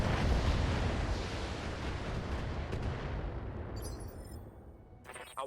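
A heavy rumbling weapon blast from mechs in the BattleTech game, a loud low boom that slowly fades over several seconds before a brief burst of higher noise near the end.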